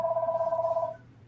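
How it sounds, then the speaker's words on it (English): A telephone bell rings once in the background, a steady, fairly loud ring lasting about a second before it cuts off, with no talk over it. "That's my phone ringing in the background."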